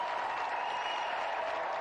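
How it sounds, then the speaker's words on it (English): A brief stretch of steady applause from an audience, dense and even, heard at a moderate distance. "let's give him another round of applause anyway"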